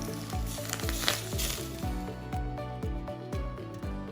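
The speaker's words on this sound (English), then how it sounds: "the pour of hot oil. That soft, iconic sizzle is the sound of a dish coming to life" Hot oil is poured over halibut dressed with soy and herbs, setting off a steady, close sizzle that crackles throughout, with repeated low rhythmic tones underneath.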